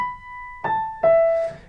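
Simple, slow right-hand melody: three sustained notes struck one after another, each ringing and fading, soft and close with no talk.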